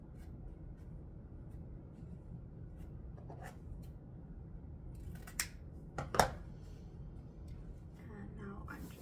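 Scissors cut through folded paper for a Christmas ornament: a few quiet, crisp snips stand out against a low, steady background hum.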